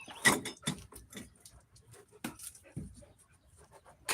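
A dog pants indoors in quick, uneven breaths, close and fairly quiet, with scattered soft taps and rustles around it.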